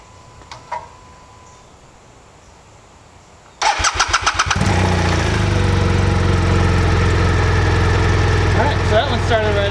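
A motorcycle engine cranks with a rapid series of starter pulses, catches, and settles into a loud steady idle close by.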